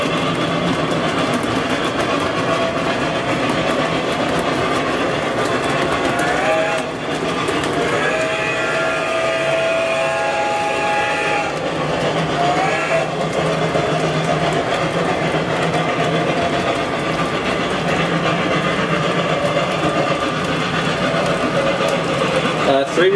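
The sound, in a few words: old Lionel Southern model train locomotive with TCS WOW sound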